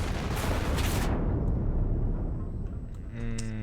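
Tank exploding in the World War II shooter game Enlisted, a loud, dense blast roar that fills the first second and then decays into a long rumbling tail, with faint tonal game sounds near the end.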